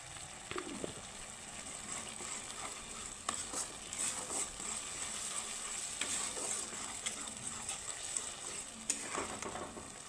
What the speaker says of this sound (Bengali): সুন্দরভাবে কষিয়ে নিব তেল ছাড়া অবধি আমি মশলাটাকে কষিয়ে নিব